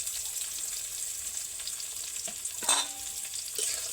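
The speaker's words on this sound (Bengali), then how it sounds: "এগুলোকে আবার কয়েক মিনিটের জন্য ভেজে নিয়ে" Chopped tomato and green chilli frying with onion and capsicum in a pan, a steady close sizzle with brief stirring scrapes partway through.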